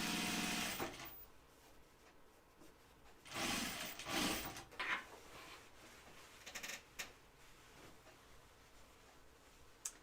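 A sewing machine top-stitches the side seams of a pair of jeans in short, quiet bursts, separated by pauses, small clicks and handling noises.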